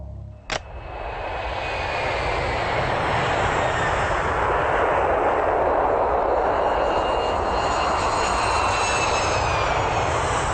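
A loud, steady airplane engine roars continuously after a sharp click at the start, holding a broad droning rumble with faint high whines throughout.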